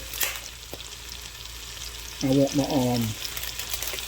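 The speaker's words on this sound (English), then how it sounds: "my ground meat to get a good sear on it" Ground meat searing in a pan beside pushed-aside vegetables for a two-meat chili, a constant low sizzle close by, with a short tonal squeak near the end.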